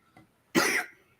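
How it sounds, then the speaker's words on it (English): A single sharp cough, close and fairly loud, with a faint breath just before it. "Y'all forgive my cough."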